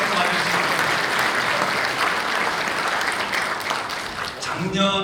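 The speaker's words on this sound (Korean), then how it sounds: "여러분 큰 박수 맞으시죠." Audience applause fills a Korean conference hall on drone sports and entertainment, a dense steady clatter of clapping that runs throughout and swells again near the end.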